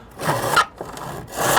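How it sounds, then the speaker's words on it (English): A hand saw rasps through a wooden board held in a miter block, two rhythmic back-and-forth strokes with a short pause between, close and clear. "take a miter block, make sure your line's to this gap here where the saw will slide in"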